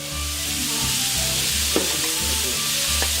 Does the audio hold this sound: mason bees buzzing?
no